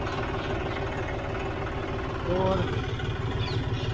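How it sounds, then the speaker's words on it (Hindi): A John Deere 5039 tractor engine idles steadily at idle rpm, a continuous low mechanical drone with a faint knock, while someone speaks briefly over it. "अब जॉन डियर में देखेंगे, ट्रैक्टर आइडल आरपीएम के ऊपर है"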